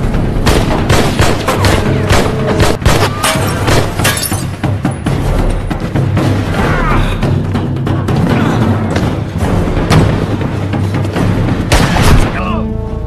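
Movie gunfight shootout with dense, loud bursts of gunfire, shattering impacts and booming explosions, continuous and close throughout, with voices mixed in.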